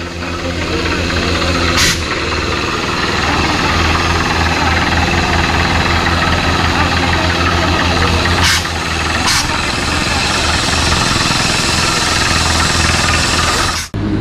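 A heavy borewell drilling machine runs continuously and loudly, its engine droning and rumbling with a steady pounding vibration and a few sharp clanks.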